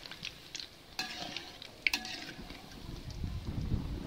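Beans vadai fry quietly in a pan, a soft low sizzle under occasional light clinks and scrapes of a utensil against the metal as they are turned.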